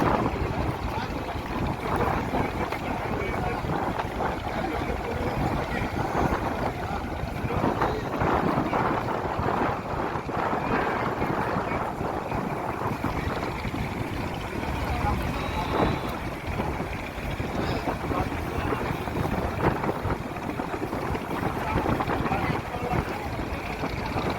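Passenger launch Adventure 9 speeding on a river during a launch race, giving a steady, loud roar of engine and rushing water with wind buffeting throughout, continuous and unbroken.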